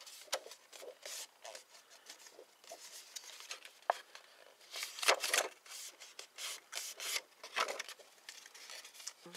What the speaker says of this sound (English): The paper just kind of bends on its own